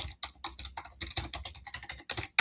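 Close, uneven clacking of a computer keyboard, a quick burst of irregular keystrokes with short pauses, heard alone without speech.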